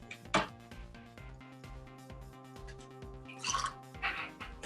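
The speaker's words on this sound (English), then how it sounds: "Then we put the water in" Water poured into a bottle rocket, with soft dripping and gurgling splashes under a steady musical background. A few brighter splashy bursts stand out near the start and toward the end.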